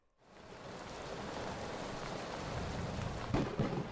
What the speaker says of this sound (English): The storm outside had strengthened, rattling the manor's very foundations.